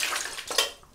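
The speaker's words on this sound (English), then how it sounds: "Rinse the hands, don't have any oil on there." Hands being rinsed under running water at a sink before a Sunday shave, a brief close splashing gush that fades, then a faint drip and a small clink.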